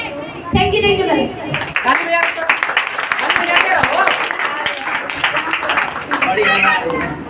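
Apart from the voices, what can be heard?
audience clapping at a school drama program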